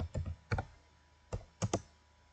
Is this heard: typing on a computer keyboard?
yes